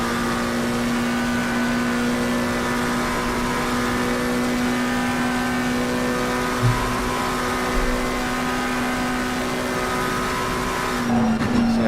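Race cars in a PC endurance racing game at Paul Ricard, engines droning steadily with sustained harmonic whine, a car building speed down the straight, a brief shift or disturbance near the end.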